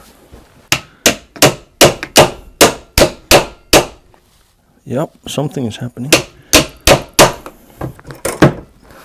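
Hammer blows on a broken router, struck in a steady run of about nine sharp, loud impacts, then a short spoken pause and another quick series of hits; someone talks briefly between them.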